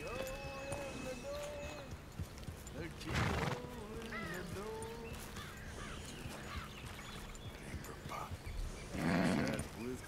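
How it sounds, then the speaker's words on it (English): A horse in the Red Dead Redemption 2 video game gives a few clopping hoof sounds and short rising whinny-like calls, set against steady background game ambience with a voice talking over it. "there is a horse"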